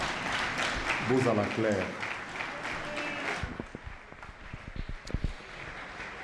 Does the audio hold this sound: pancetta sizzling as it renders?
no